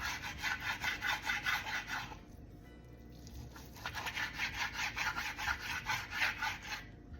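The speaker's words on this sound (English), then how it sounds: "I'm gonna sharpen my knife." A kitchen knife is sharpened while chicken tenders are being prepared. Quick, even scraping strokes run in a steady rhythm, stop briefly partway through, then resume at the same pace, close and moderately loud with no talking.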